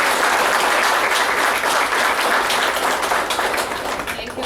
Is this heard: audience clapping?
yes